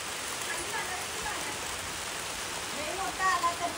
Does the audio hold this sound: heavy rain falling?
yes